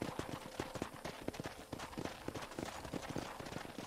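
Horse hooves gallop in Red Dead Redemption, a steady, rapid clip-clop of repeated hoofbeats, close and fairly loud, running continuously without talk.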